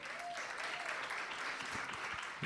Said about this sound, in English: Stand up for a round of applause for our model.